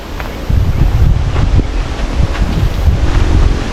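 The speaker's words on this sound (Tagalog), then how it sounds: "grabe, lakas ng hangin" Strong wind roars and buffets the microphone continuously, with heavy low rumbling gusts and a whooshing, rushing texture throughout, as rain arrives with the wind.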